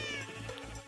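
A Minecraft cat gives a short meow, one brief tonal call close up, with soft background game noise around it.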